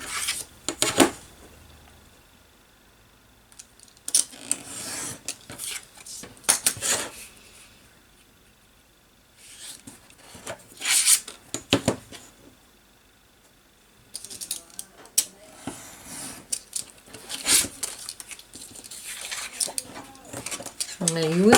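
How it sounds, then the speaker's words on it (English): Scissors cutting through card to separate Halloween postcards, leaving a thin border between each, heard as bursts of close snipping and rustling with pauses between cuts. "Now I'm just cutting in between and leaving that little border between each one."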